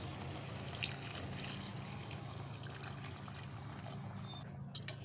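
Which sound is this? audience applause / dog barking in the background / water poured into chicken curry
water poured into chicken curry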